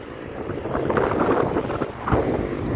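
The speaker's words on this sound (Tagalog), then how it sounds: "Sumpong ang hangin mga katrip oh." Strong coastal wind buffeting the microphone in heavy gusts during a bike ride along a coastal road, a rough roaring rush that swells and peaks near the end.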